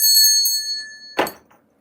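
A bell rings with a bright, sustained metallic tone that slowly fades, then a short dull knock follows before quiet.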